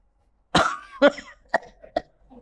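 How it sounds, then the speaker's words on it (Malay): A person coughs several times, a harsh first burst followed by smaller hacking coughs and a throat clear, close and alone. "Dan batuk"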